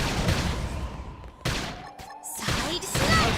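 Bursts of rapid gunfire and heavy impacts in the video game Xenoblade Chronicles X, dense and loud with brief gaps, mixed with game effects.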